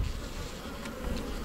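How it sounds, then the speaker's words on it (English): Honey bees buzz steadily in a dense, even drone while a hive is opened for inspection, close and fairly quiet, with no talking. "we ended up with this nice little bunch of bees in the middle"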